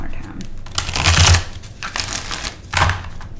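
Close, crisp tarot card shuffling in two riffling bursts with a pause between, while someone speaks quietly underneath.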